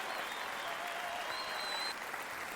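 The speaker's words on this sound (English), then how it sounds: "Can we get another round of applause for Leslie Tanner?" A crowd applauding on a late-night show, a steady wash of clapping that holds evenly for a couple of seconds and then eases slightly.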